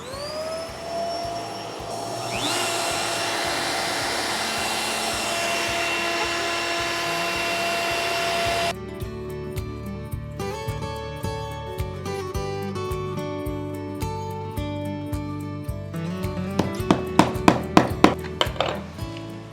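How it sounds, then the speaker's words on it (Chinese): A vacuum cleaner starts with a steady, loud whine and keeps running during CNC router woodworking on wooden board. A machine hum with rhythmic, clicking cutting sounds later joins it, and nobody speaks. "先开吸尘器"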